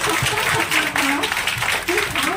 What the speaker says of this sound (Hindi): आज सब लोग जोरदार ताली एक बार बजाए हैं